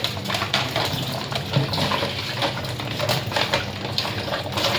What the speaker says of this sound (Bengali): এখন আমি একটু পানি নিয়ে নিই এটার ভিতরে